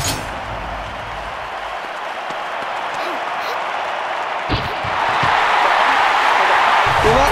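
Stadium crowd cheering and roaring at a high jump event in the London 2012 Olympic video game, a dense continuous wall of noise that swells louder in the second half, with a commentator talking over it.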